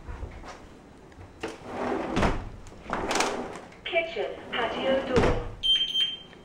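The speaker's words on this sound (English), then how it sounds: "Kitchen, patio door. The double beep," Two high electronic beeps from a kitchen patio door alarm sound near the end, following several dull thuds and shuffling noises, with a voice talking over parts of it.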